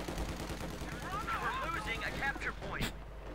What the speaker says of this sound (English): Heavy auto cannon rounds, machine gun fire, threatening to end the Americans' lives.